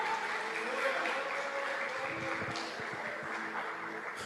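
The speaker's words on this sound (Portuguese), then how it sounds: "Vamos aplaudir a Ele nessa noite" A congregation at an OBPC evangelical church service in Botucatu claps together at moderate volume, continuous and even, with some low background sounds underneath throughout.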